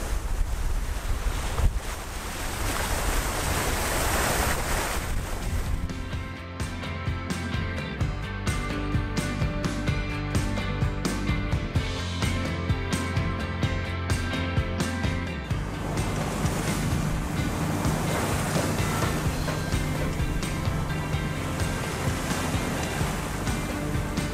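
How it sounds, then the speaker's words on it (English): Steep ocean waves rush and slap against a sailing boat moving fast under autopilot offshore, a loud continuous roar of water with heavy wind buffeting the microphone throughout. "Some of these waves are pretty steep again."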